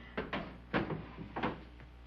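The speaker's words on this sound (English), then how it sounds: "Here, I'll put these in the drawer for you." Items set down into a wooden drawer, which is then pushed shut, in an older Western TV episode: several knocks and thuds spaced out over two seconds, moderately close, with no voices.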